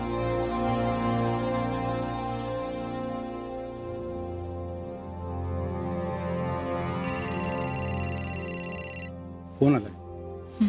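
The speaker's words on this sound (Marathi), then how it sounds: "फोन आला." A telephone rings in a home during a Marathi family drama, its electronic bell tones chiming in a clear repeating burst over background music, followed by a brief voice.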